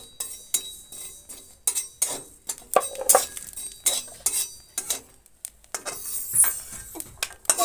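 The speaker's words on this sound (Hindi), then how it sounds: "अब हम कलौंजी भूज लेते हैं" Nigella seeds (kalonji) roasting in a pan give off a quick series of light metallic clinks and scrapes, like a spoon stirring against the pan, close up and without talk.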